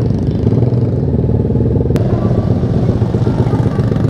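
Low, lowered motorcycle on a long Sunday-morning group ride in Indonesia, its engine running with a steady deep drone and mild revving throughout, loud and close with no voices.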